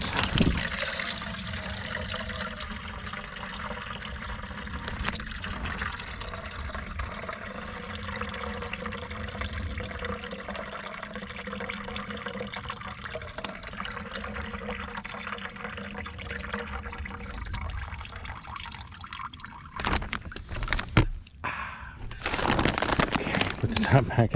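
Maple sap pours out of a collection bucket in a long, continuous splashing stream. The flow is steady for about twenty seconds, then it breaks into a few spatters and sloshes.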